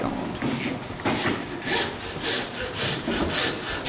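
Handsaw cutting through a pig carcass at a winter woolshed party, several rhythmic back-and-forth rasping strokes growing louder and more regular, close by with no talk over them.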